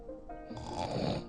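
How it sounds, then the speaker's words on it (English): The Gruffalo snores in a read-aloud bedtime story, one short, quiet, throaty snore that rises and rattles before stopping, heard alone. "when the Gruffalo snored"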